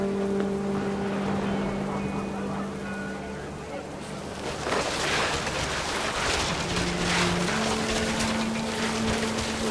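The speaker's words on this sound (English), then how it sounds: "The rain came down in buckets then" Heavy rain in the game What Remains of Edith Finch pours down as a dense hiss that swells louder midway, while a voice talks over it and low tonal music hums underneath.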